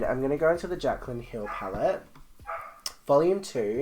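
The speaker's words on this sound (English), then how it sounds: "You can hear my dog barking in the background" A dog barks in the background while someone talks continuously in the foreground, the barks partly masked by her voice.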